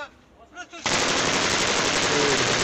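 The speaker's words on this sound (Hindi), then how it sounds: "क्या कर रहे हैं ये लोग यार, ऐसी हवा में फायरिंग कर रहे" Celebratory machine gun fire shot into the air at a Pathan wedding in Pakistan: after a quiet murmur of voices, a loud, continuous rapid burst of automatic gunfire erupts and keeps going.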